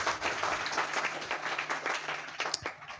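A congregation at a Sunday worship service claps hard. The applause is a fairly loud, continuous patter of many hands lasting about three seconds, with faint voices underneath.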